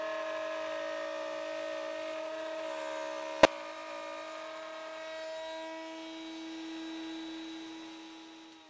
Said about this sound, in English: And we'll finish off the slot here at the router table.